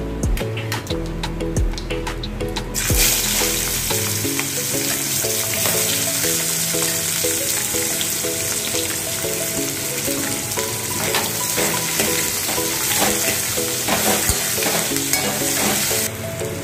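Chopped onions sizzle loudly in hot oil in a pan for a Bengali home-style chicken curry, a bright continuous frying hiss with stirring underneath and faint background music.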